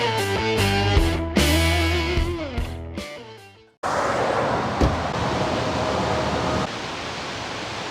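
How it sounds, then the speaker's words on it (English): Loud waterfalls on a high-altitude alpine river beside a freeway: after a stretch of music, a steady, broad roaring rush of falling water takes over and continues to the end. "there's 3 falls right in this area right here, and it is super loud"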